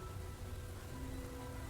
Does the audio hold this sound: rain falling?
yes